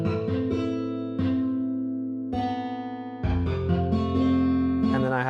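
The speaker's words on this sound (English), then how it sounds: "For the chorus, I did add in this acoustic guitar harmonic" Chorus of a song with an added acoustic guitar harmonic layered into the mix, heard as a steady bed of sustained tonal music with a few section changes, no talking.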